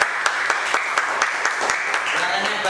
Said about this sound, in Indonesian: Oke, tepuk tangan buat Ekrin.